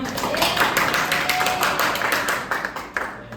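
Students in a classroom clap their hands together, a dense steady round of applause lasting several seconds, close and fairly loud, with voices faintly mixed in.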